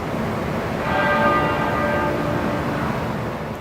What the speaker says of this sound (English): To the tolling of a single bell